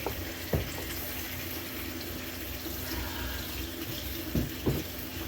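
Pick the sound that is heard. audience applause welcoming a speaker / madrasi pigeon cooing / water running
water running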